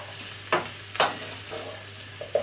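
Onions softening in melted butter, with a low, steady sizzle broken by a few brief, sharper scrapes or stirs close by.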